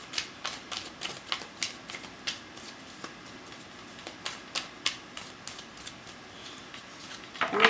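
Tarot cards being shuffled: a series of crisp riffling flicks and snaps in an irregular rhythm, close and fairly quiet, with a brief voice at the very end.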